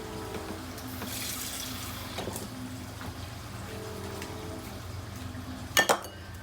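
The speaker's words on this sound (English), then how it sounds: "I'm gonna put a little bit of water in this bowl." Water runs steadily from a kitchen tap into a bowl during keto meal prep, a continuous low splashing with faint clinks of dishes and a couple of sharper knocks near the end.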